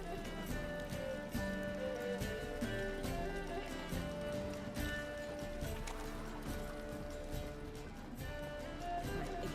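Horse hooves clip-clop steadily in The Witcher video game, a rhythmic trotting beneath loud, continuous orchestral game music that largely covers them.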